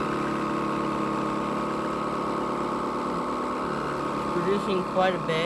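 A Vacmaster 2.5 gallon 2 horsepower shop vacuum motor drones steadily on the floor with a loud continuous whine, while a person talks over it.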